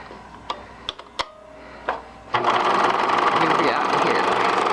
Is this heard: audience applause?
no